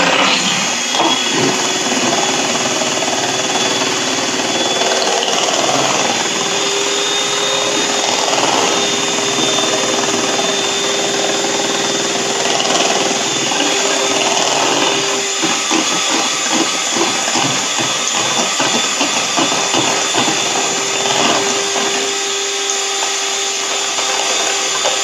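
Electric hand mixer beating banana cake batter in a bowl, a loud continuous whirring drone, close and unbroken throughout with no talking.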